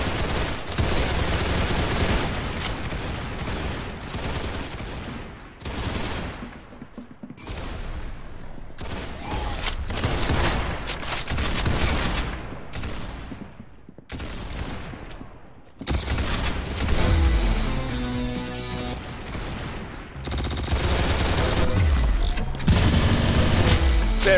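Rapid bursts of gunfire from Roblox Arsenal rattle loud and close, repeated volleys broken by short pauses across the whole stretch, with no voices over them.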